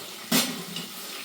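Hot water hits a pan of tamarind and curry leaves with a sudden loud splash and hiss, then settles into a softer continuous bubbling sizzle.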